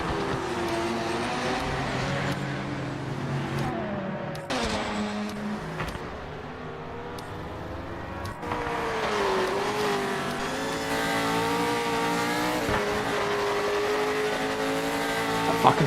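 Porsche race car in the PMR SPEC 2.0 racing game, a loud engine climbing and dropping through the gears over and over, with brief tire squeal and no talk.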